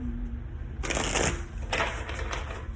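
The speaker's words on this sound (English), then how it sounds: "I'm just gonna shuffle." An oracle card deck being shuffled by hand, heard as two close, rustling bursts of cards riffling against each other with a short pause between them, and no talking.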